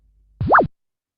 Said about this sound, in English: add one sound, start sound, zoop. I will take zoop sound.